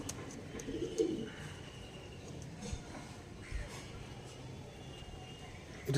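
Pigeons give soft, low coos on and off at a moderate distance, faint against steady background noise with no clear talk.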